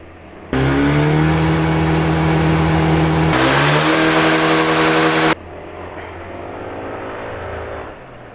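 A Honda PCX 160 scooter engine runs at high speed on its center stand, a loud sustained drone that steps up sharply in pitch and intensity, holds, then drops back to a steady lower hum.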